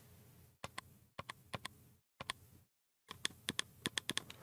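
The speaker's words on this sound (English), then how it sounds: "They're not the only thing that's clicky on here, because listen to the two sides of the touchpad." Crisp, sharp clicks come from pressing the left and right sides of a Razer Raiju Tournament Edition controller touchpad, in quick separate bursts and doubles with brief silent gaps, close and fairly quiet.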